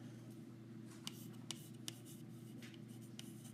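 A pen writes on a chemistry lecture slide in quiet, light scratchy strokes with a few sharp taps, faint over a low steady hum.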